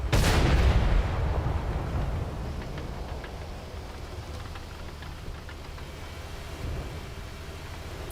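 A tank cannon fires in a tank video game: a single loud, booming shot at the start whose rumble fades away over several seconds, followed by faint, sparse background noise.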